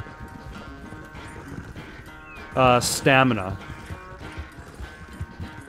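A horse gallops in the video game Red Dead Redemption 2, its hooves drumming a steady rhythm throughout while someone talks briefly over it.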